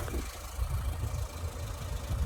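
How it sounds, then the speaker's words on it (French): An old 60 hp Peugeot towing a caravan on a road trip through Eastern Europe, its engine droning with a low rumbling, steady in-car roar and no talk over it. "entendez-moi ce moteur qui rugit, là"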